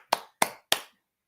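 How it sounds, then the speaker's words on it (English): Three sharp, separate hand claps in an even, quick rhythm, close and crisp, each decaying fast, followed by silence. "They're clapping."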